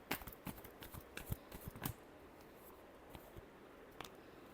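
Tarot cards shuffled by hand during a reading, a quick flurry of soft riffling and slapping for about two seconds, then sparse faint card taps, quiet and close.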